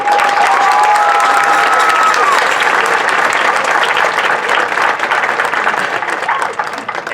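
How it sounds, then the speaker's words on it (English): Loud, sustained applause and cheering from a large audience at a high school graduation ceremony, steady throughout with a few whoops early on, tapering slightly at the end. "Let's give them a round of applause"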